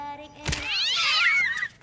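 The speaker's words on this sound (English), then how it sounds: "And he steps on cats and thinks it's funny." A cat lets out one long, rising and falling yowl in a film scene from Christmas with the Kranks. A brief thump comes just before the cry, which is loud and close.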